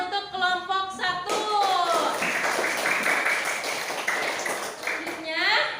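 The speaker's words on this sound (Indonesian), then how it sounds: "Yuk kasih tepuk tangan untuk kelompok 1." A classroom full of students claps for the first group, a steady patter of applause that swells and fades over several seconds while voices chatter over it.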